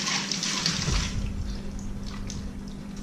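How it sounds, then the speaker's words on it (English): Tap water running over drained tofu, a steady hissing splash of water throughout, close and fairly loud, with no talking. "You're going to drain the tofu, and then you want to give it a quick rinse."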